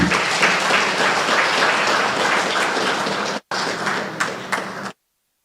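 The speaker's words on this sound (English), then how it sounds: "Let's give them a round of applause for tremendous presentations." A conference audience breaks into loud, sustained applause, a dense roar of many hands clapping that briefly drops out, resumes, and then stops abruptly.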